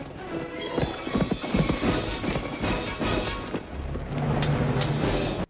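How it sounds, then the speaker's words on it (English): Hooves clip-clop at a fast gallop in a film scene while a horse neighs and whinnies, loud and close, with dense effects and music layered underneath. "It must feel so cool to ride a horse really fast."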